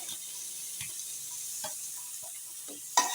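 Onions with ginger garlic paste frying in a pan give a steady, bright sizzle, with a few soft stirring scrapes and a sharper clatter near the end and no speech.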